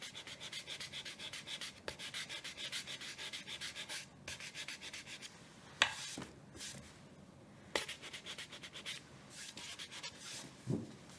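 Paint being scraped and gouged off a wooden cutting board, a steady close rubbing rasp running throughout with several sharper scrapes standing out.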